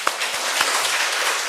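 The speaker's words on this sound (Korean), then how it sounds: "박수 한번 쳐줄까요?" A church congregation at a Sunday worship service breaks into applause, a dense wash of clapping from many hands heard at moderate loudness, with a few sharper claps standing out.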